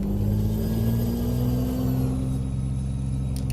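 A Peterbilt truck engine in Euro Truck Simulator 2 drones loudly and steadily with a high, thin whine riding over the low rumble, continuous throughout with no speech.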